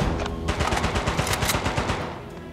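Rapid bursts of video game gunfire from Uncharted: Golden Abyss crackle loud and close, a dense rattling volley of shots running steadily through the moment with no talk over it.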